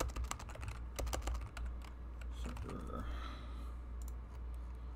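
Quick, light clicks on a computer keyboard rattle through the first half as a server hostname is typed, then thin out, under quiet, soft talk.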